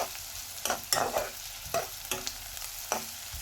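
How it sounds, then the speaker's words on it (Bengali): Vegetables being lightly sautéed in a pan for a chicken sandwich, with a few quick scraping stirs over a soft, steady sizzle. Close and fairly quiet, with no voices. "তো এটা আমি হালকা সতে করব"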